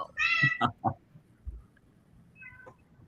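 A cat gives several loud, close meows in quick succession, then goes quiet, and a fainter short meow follows near the end.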